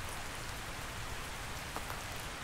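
Steady in-game rain from the video game ARK Survival Ascended hisses evenly throughout, a soft, continuous wash of falling drops with no talking.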